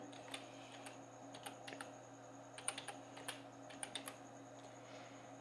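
Computer keyboard keys clack in quick scattered bursts, soft and close against a quiet room hum, with no voices.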